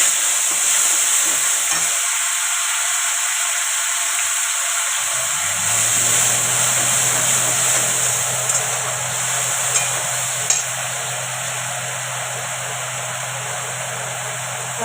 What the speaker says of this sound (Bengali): পেঁয়াজটা ভাজা হয়ে গেছে। আর এই যে মশলাটা করে রেখেছিলাম এটা দিয়ে দিলাম।